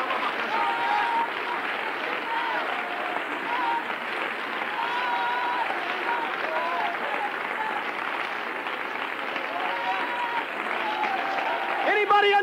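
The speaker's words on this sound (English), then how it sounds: "My, clap your hands" A church congregation claps their hands during a sermon, a dense steady applause lasting throughout, with voices and music woven underneath the clapping.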